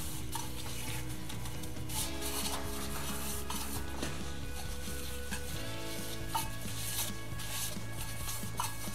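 Continuous scratchy rubbing and stirring as homemade powdered laundry detergent is mixed by hand with essential oil, a steady, close sound with a faint background hum and no speech.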